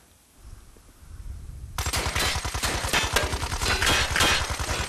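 Video game gunfire: after a quiet start, rapid automatic bursts erupt and continue steadily, loud and dense with a fast rhythmic pattern.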